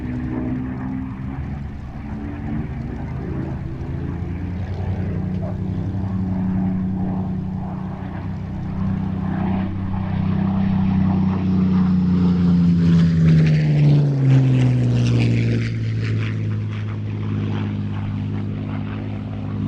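A Spitfire fitted with a metal three-bladed propeller roars overhead, its engine drone building loud and steady, then sweeping past with a falling pitch as it passes close by.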